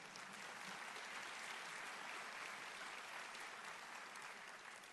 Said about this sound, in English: And we should clap about that.